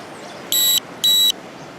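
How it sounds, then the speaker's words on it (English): Two short, identical electronic beeps from a Dromida Kodo micro quadcopter initializing, a half second apart, clear and tonal over a faint background hiss. "So I got a couple beeps."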